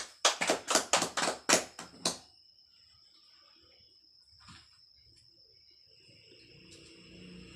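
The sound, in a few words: class applause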